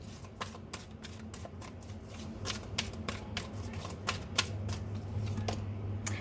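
Tarot cards being shuffled and drawn, giving a steady run of crisp riffling flicks and slaps at close range over a low background hum, with no talking.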